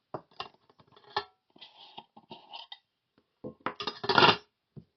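A metal Trangia burner and aftermarket simmer rings being fitted into the stove, with light metallic clinks and scrapes in uneven bursts, ending in a louder rattling clatter up close.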